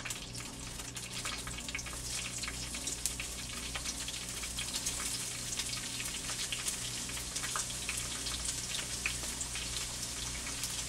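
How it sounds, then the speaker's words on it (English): Onions sizzle in a hot skillet for squash, a steady, bright crackling hiss with fine popping spatters that holds evenly from start to finish, fairly close. "I'm going to add some onions in here for the squash."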